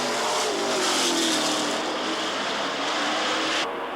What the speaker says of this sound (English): All these cars are driving flat out, each on the limit, struggling to stay ahead